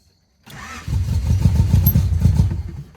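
A flooded third-generation Honda Prelude engine with a carburetor cranks and sputters, rapid rhythmic low chugging beginning after a half-second of silence and continuing steadily without catching, close and loud.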